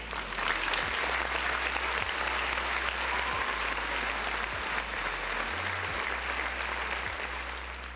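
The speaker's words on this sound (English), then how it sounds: "Round of applause to Chris" A crowd claps for a birthday shout-out, a steady, continuous round of applause at moderate level with a low electrical hum running beneath it.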